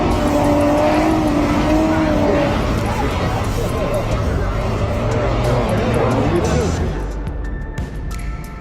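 Powerful off-road trucks climbing a steep hill, engines roaring loud and continuous with revving, with voices talking over them and the noise easing toward the end.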